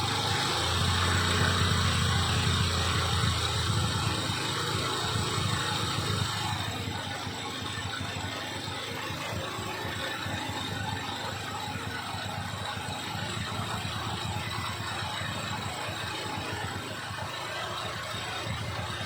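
A steady mechanical car engine drone idles throughout, fairly constant with a slight drop in level partway through.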